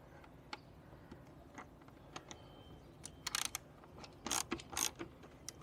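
Quiet ratchet clicks from a hand tool removing 8mm bolts on a Jaguar XF 3.0D during an expansion bottle replacement, sparse isolated ticks at first, then quick bursts of ratcheting close by.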